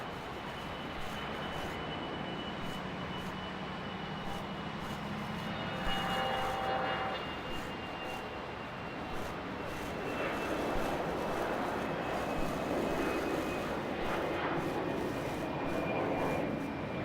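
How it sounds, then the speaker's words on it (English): A Fokker airliner departs Brisbane Airport, heard as a broad, distant roar of jet engines that swells gradually over about seventeen seconds, faint and steady with a thin high whine. "Fokker departing there."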